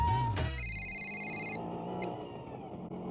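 A telephone rings over a speakerphone in an electronics shop setting, a steady electronic ring tone repeating for about a second before cutting off, with faint room noise continuing after.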